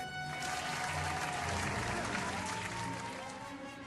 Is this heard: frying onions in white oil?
no